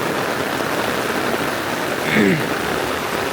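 Heavy rain falls on a vegetable field planted with okra and cauliflower, a steady loud hiss throughout, with a brief voice rising faintly under the downpour near the end.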